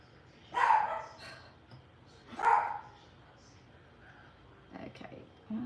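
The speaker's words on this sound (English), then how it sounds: "With the dog barking." A dog barks in two loud, close bursts a couple of seconds apart, followed by softer yips near the end, while someone doing nails talks nearby.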